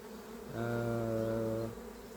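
Winter honeybees buzz inside an opened hive, a faint droning hum that swells up and holds for about a second before fading back, with no talking.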